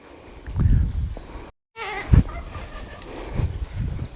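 A goat being called to a squeeze table on a farm bleats several times in a row, close and fairly loud, with short uneven gaps between the cries and a brief dropout partway through.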